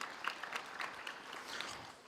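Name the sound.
applause at university graduation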